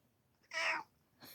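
A cat meows once, close and fairly loud, followed by the start of a second fainter meow, with no talk.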